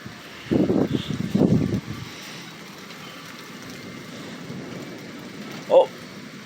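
Thunderstorm with steady wind and rain noise throughout, a louder rumbling burst early on and a brief sharp crack near the end, no voices.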